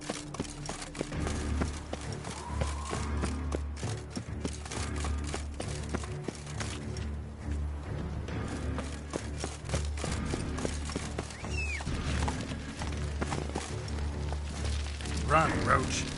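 Roach, a horse in The Witcher 3 (Blood and Wine), gallops with steady clip-clop hoofbeats under game music and ambience, while someone speaks briefly over the running.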